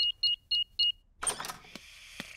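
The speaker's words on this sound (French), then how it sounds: "Je vais d'abord désactiver l'alarme." In a Peppa Pig cartoon, four quick electronic beeps in a steady rhythm as an alarm is deactivated, then a brief rustle and a couple of soft clicks nearby.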